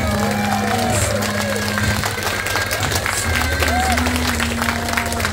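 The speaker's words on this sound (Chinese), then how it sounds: "可以再给我一个从开始到最后最大的那一次掌声吗" An outdoor crowd at a fire dance show by the NB fire dance troupe applauds and cheers while a voice speaks over amplified tones, the clapping spread and busy beneath the talk.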